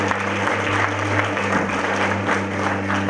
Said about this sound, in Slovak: to si zaslúži potlesk